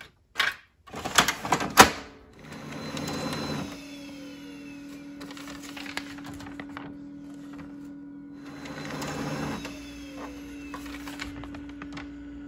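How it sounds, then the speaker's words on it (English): Home printer feeding a sheet of shiny transfer paper for a fabric image transfer: a few sharp clicks and clunks, then a steady mechanical whir with a humming tone, a pause, and another burst of feed rattle. "Make sure when you're printing on the shiny side and feed it into your printer"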